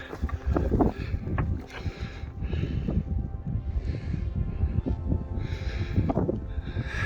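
Strong wind on a cloud-covered Scottish mountain summit near Sgòrr Ruadh and Beinn Liath Mhòr in Torridon buffets the microphone in a steady, close, low roar that swells and gusts throughout.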